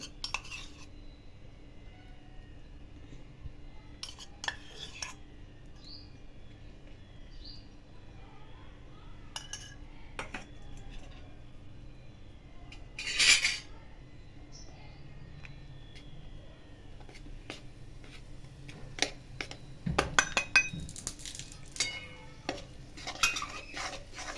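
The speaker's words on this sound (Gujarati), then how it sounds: "ઘઉંનો લોટ ધીમે ધીમે શેકવો પડશે, નીચે બળે પણ નહીં એ રીતે ધીમે ધીમે શેકીશું." Wheat flour roasting in ghee in a pan is stirred slowly with a spoon, giving soft scraping and occasional light clinks against the pan. The sounds are quiet, intermittent and close, without speech.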